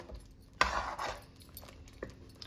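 Chicken pieces stirred and mixed with green paste in a pan, a couple of scraping clinks of a spoon against the metal, soft and sparse with quiet gaps between.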